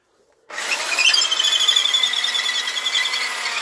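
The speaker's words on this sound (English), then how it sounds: "So we've given up with the battery drill. Out come the electric." After a brief silence, a corded electric drill switches on and whines steadily at close range, its high pitch holding throughout.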